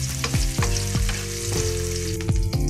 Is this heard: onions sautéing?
yes